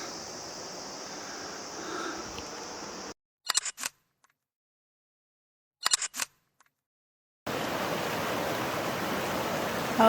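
An ice-cold mountain stream rushes through the Merke gorge in a steady, loud roar of water. It breaks off into silence broken only by a couple of sharp camera shutter clicks, then the rushing returns.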